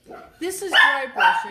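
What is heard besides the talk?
dog barking at passing bikes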